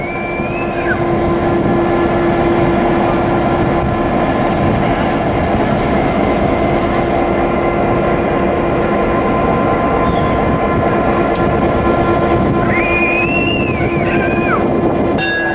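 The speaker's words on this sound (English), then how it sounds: "in order for our locomotive to turn around and then recouple" A Tennessee Valley Railroad locomotive rumbles steadily along the track, loud and close, with a continuous mechanical roar and occasional faint squeals over it.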